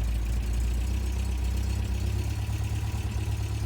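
A 1978 MG MGB engine idles steadily with its choke pulled out, a low, even rumble with a slightly raised idle, close and continuous for a few seconds with no one speaking.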